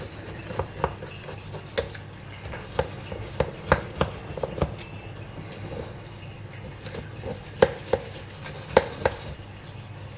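Knife trimming the edges off a cooled ragi chocolate walnut cake, making scattered sharp scraping cuts against a board, close and fairly quiet, no talk.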